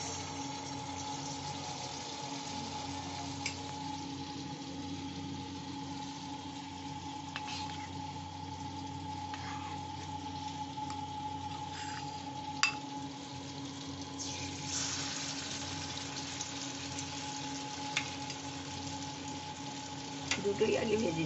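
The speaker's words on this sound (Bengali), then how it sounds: "এই ব্যাটারে এই বলগুলো ডুবিয়ে তেলে দিয়ে দিচ্ছি।" Batter-coated balls of fish and egg frying in oil in a kadai, a soft steady sizzle running throughout with occasional faint clinks, close but fairly quiet.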